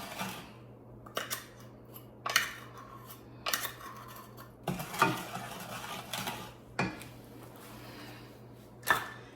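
A wooden spoon stirs a caramel popcorn mixture, giving a series of sharp scraping and clacking strokes spaced irregularly against a steady low background hum, with no talking.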